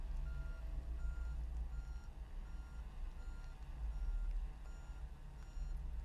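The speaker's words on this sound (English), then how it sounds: "telling that driver to straighten out the vehicle and back into the parking space" A vehicle backing into a parking space sounds a steady run of evenly spaced reversing beeps over a continuous low engine rumble, heard from a short distance.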